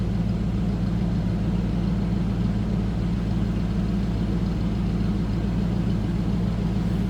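Smooth, steady idle from the engine of a 1989 Ford Mustang GT convertible, a loud, constant low rumble heard up close without throttle changes or speech.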